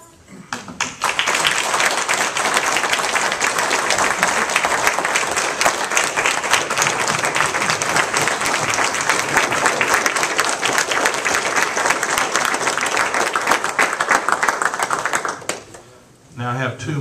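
An audience at a council meeting gives sustained applause for a heroism award, dense clapping from many hands that holds steady for about fifteen seconds before tapering off, with a voice starting up at the end.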